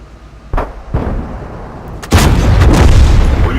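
Tank cannon fire in the World of Tanks video game, two sharp booming shots followed by a louder, heavier blast that rumbles on, loud and close with no talking.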